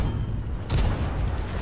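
A tank gun shot in World of Tanks, a single deep boom landing mid-clip over a constant rumbling battlefield bed, heavy and fairly loud.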